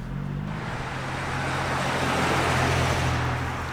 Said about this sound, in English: So I was waiting for the cars because of the noise.